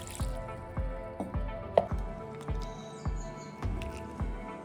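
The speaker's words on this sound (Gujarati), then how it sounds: "ગળણું ચારે બાજુ પકડી અને આપણે દૂધને નિતારી લઈશું। તમે જોઈ શકો છો નીચે એકદમ સરસ દૂધ નીકળી રહ્યું છે।" Coconut milk dripping through a strainer, with a regular series of close, distinct drips falling into liquid below, about two per second, with no talking.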